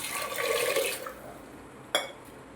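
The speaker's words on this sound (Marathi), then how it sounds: "आता यानंतर टाकायचं आहे छोले शिजायसाठी पाणी." Water pours into a metal pressure cooker holding chickpeas for about a second, a bright splashing rush that stops. A single metallic clink follows.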